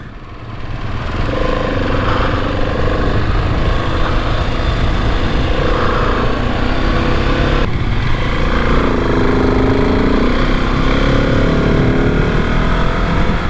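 A pack of twelve KTM 701 supermoto motorcycles lapping a tight go-kart track, with a loud, continuous engine roar that rises and falls as the riders work the throttle.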